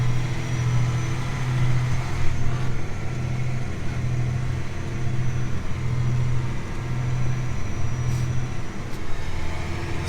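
A John Deere 4640 tractor pulling a fully loaded Brent grain cart through snow, a steady droning engine hum with a low pulsing throb, continuous and close.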